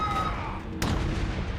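A grenade blast in the video game Shadowrun lands as a sudden sharp boom midway, following faint game tones and low rumble, then a short decaying roar.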